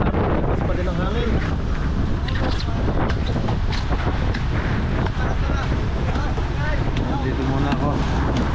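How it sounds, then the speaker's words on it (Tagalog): Strong wind buffeting the microphone at sea near the shore beside a boat amid waves, a constant loud roaring rush with gusty bursts throughout, and a voice speaks at moments. "Lakas pa din ang hangin."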